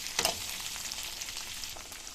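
Green chilies and coriander fry in oil in a home kitchen, giving a faint, steady sizzle with a short louder crackle near the start.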